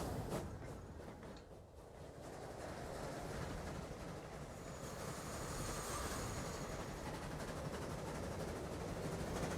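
In Transport Fever 2, a passenger train rumbles along steadily with rolling wheel noise and faint squeals, fairly quiet and continuous with no voices.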